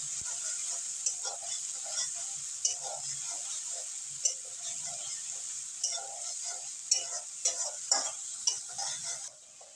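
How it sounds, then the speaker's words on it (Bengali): Spices stirred and fried in a pan for carp kalia, a steady soft sizzle with repeated scraping clicks of a spoon against the pan, close and moderately loud, with no talk. "দিয়ে আমি ভালো করে কষিয়ে নেব।"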